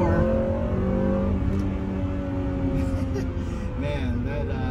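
Honda Prelude Type SH engine accelerating hard under full throttle, a close, steady rising drone heard from inside the car.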